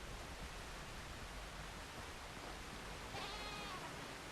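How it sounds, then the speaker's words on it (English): A goat bleats faintly in the farming game Windrose, a short wavering call near the end over a steady loud wash of ambient noise. "Heard a goat."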